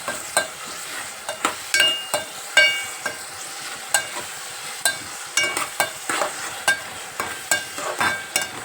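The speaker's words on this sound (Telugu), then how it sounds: "మనం ఉల్లిపాయలు అన్నీ వేస్తాం కదా" Onions fry in a pan for a curry with bitter gourd, tomatoes, green chillies, garlic and cumin, giving a continuous sizzle and frequent irregular scraping strokes of a spoon against the pan, close and loud.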